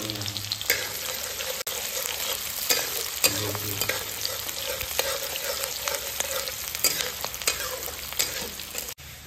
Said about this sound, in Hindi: ये देखिए प्याज जो है बढ़िया से लाल फ्राई हो गया है